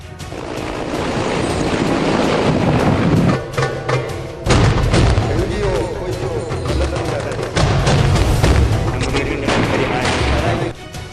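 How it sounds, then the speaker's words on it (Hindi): Artillery shells bursting during the Kargil war, heavy booming blasts that roll on continuously and loud, with short dips in between, mixed with what may be gunfire. "कारगिल की वादियों में तोपों के गोलों की आवाजें गूंजने लगी।"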